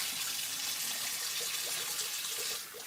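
Running water splashes steadily over fresh farmers market produce held in a strainer under a tap, a continuous hiss with a slight shift near the end.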